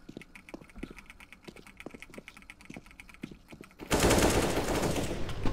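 Rapid bursts of Counter-Strike gunfire crack in quick irregular succession at moderate volume, followed by a sudden louder wash of noise near the end.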